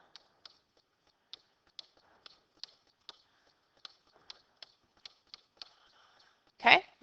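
A calculator's keys are pressed one after another, giving about a dozen sharp, close, faint clicks at an uneven pace in an otherwise quiet room, ending with a brief louder rustle.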